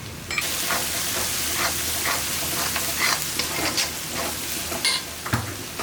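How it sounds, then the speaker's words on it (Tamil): Spices sautéing in hot oil for a spicy chicken masala gravy, with cumin powder, garam masala and red chilli powder, sizzle steadily while a spoon stirs and scrapes the pan in repeated close strokes; no talking. "எல்லாமே இந்த எண்ணெயிலே வதக்கியாச்சு."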